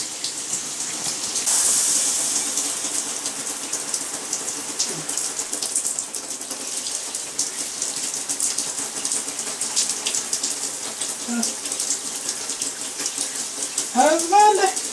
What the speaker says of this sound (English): come out of the shower this instant